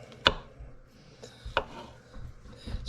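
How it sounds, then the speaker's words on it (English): Knife slicing mushrooms on a cutting board: two distinct sharp cuts about a second apart, close and clear, with quieter rubbing sounds between them. "now we're ready to slice the mushrooms"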